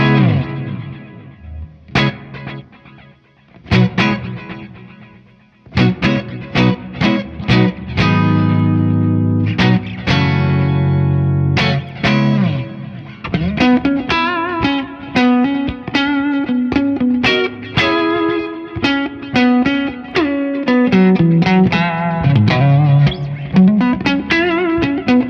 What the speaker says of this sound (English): Now the delay is a multi-tap delay,